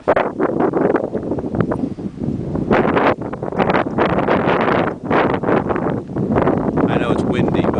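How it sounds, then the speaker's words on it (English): Strong, continuous wind at Woodstock in 2011 buffets the microphone in loud gusts, roaring and rumbling throughout with little letup. "I know it's windy"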